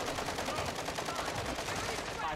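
Rapid automatic gunfire in Call of Duty Warzone on Ashika Island, a dense continuous burst of shots filling the whole moment, loud and close with no pauses.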